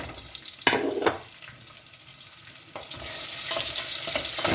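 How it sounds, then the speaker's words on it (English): Crushed onions, garlic and cinnamon hiss in hot oil as they are stirred, with a couple of sharp utensil scrapes early on and a louder, steady sizzle building toward the end. "Stir it around."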